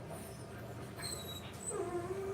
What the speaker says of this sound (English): Don't you love a dog that just like always whimpering?